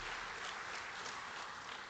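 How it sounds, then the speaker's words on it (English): Brief burst of steady clapping from a ceremony audience at a financial inclusion forum's opening, a dense, uniform patter of many hands at low volume with no voices. "Another round of applause to Ashwin Berry and the entire team."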